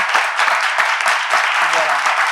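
An audience applauds the speakers, a dense, steady wash of clapping throughout at close range and fairly loud, with no break.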